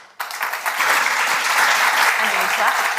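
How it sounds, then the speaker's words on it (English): A live panel audience bursts into applause, starting abruptly and settling into a dense, steady clapping with a little voice mixed in. "And we clap."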